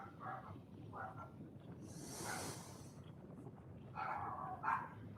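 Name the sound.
dogs barking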